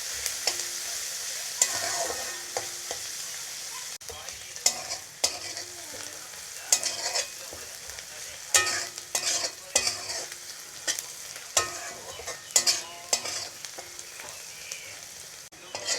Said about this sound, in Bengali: পেঁয়াজগুলো আপনারা অবশ্যই গোল্ডেন কালার করে ভেজে নেবেন।